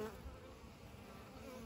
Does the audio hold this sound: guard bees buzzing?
yes